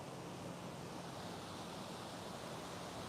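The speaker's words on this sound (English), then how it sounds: "You got like you got waterfalls over here." Waterfall feature at Roppongi Hills in Tokyo, a steady broadband rush of falling water filling the whole clip at an even, moderately loud level with no talk over it.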